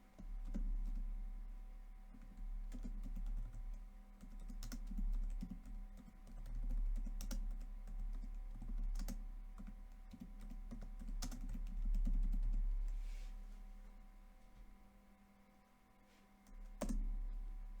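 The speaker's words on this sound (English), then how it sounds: "So I'm going to delete it and type something else." Typing on a computer keyboard, with scattered soft key clicks and a few louder taps over a low steady hum, close and quiet.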